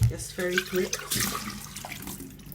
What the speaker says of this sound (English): it's very important to let the water run clear the first time. So I usually rinse them for like 2 to 3 times